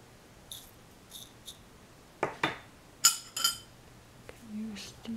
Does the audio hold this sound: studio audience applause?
no